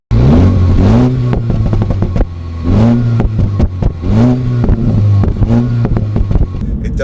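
A Mini Cooper S engine with stock exhaust revs hard in repeated bursts, with sharp crackling pops from the exhaust between throttle blips, loud and close.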